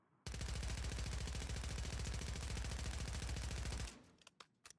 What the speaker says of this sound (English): We'll do two AMR9 sprays as well.